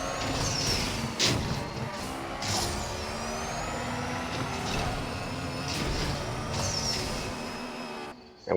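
A car launches in the racing game NFS No Limits with a loud engine roar that holds through the run, with sharp shifts and revving spikes, then cuts off abruptly at the end.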